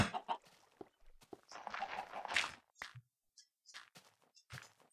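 Chicken in a farming video game, with short scattered clucks and pecking sounds, and game footsteps and small thuds mixed in across a few quiet seconds.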